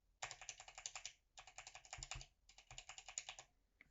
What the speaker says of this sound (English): As you can hear, the PBT one has a bit more of a thunk to it